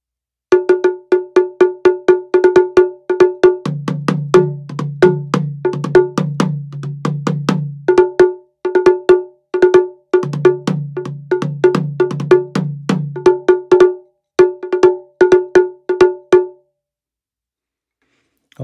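Taiko drums play the opening phrase of the Edo Kotobuki Jishi yatai section, a close, loud run of sharp rhythmic strikes with two stretches of rapid rolls, ending in silence.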